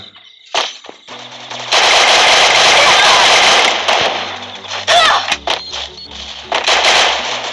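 Rapid automatic gunfire rattles loudly in the shooter video game Rampage Uprising mode, long sustained bursts with brief pauses and a few sharp single shots, dominating the mix.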